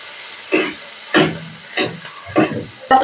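Masala of onion, garlic and ginger frying in oil in a pan for a crab curry, with five bursts of loud sizzling as it is stirred, each hiss rising and fading at a steady pace.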